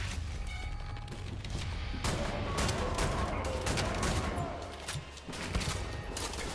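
Enemy gunfire in the shooter game Wolfenstein: The New Order, a dense, continuous barrage of rapid automatic shots and impacts over a low rumble, loud and close throughout.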